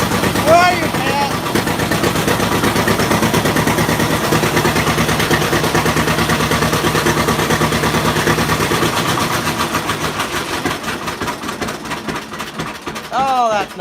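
A John Deere Model A tractor engine, started for the first time in eight years, runs steadily with a loud rhythmic two-cylinder thump that slows as the throttle is pulled back, with people talking over it.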